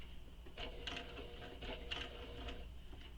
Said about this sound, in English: So we're going to top stitch around the entire top of the bag